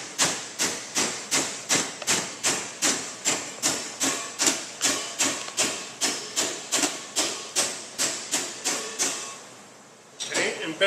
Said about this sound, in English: now you take the hammer